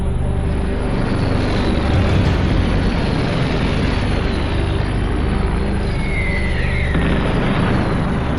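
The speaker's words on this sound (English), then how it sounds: "Overhead, hundreds of Allied planes brave anti-aircraft fire to carry bombs and paratroopers towards France." Allied World War II planes drone overhead under anti-aircraft fire near the French coast on D-Day, a dense continuous engine roar with dull booms mixed in.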